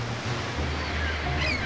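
Ocean waves and wind roll continuously along Tasmania's wild west coast, a loud steady wash of surf and gusts with no voices.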